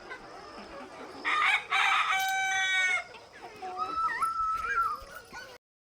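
A rooster crows loudly twice in a row, harsh drawn-out calls, followed by softer clucking and whimpering animal sounds nearby.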